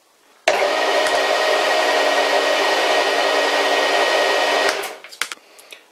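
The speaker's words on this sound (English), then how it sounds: "the cheap Chinese lathe is back in action and it sounds better than ever" A cheap Chinese lathe with three newly replaced input-shaft bearings runs steadily, a loud continuous whine and hum that starts abruptly, holds for about four seconds, then spins down with a few clunks.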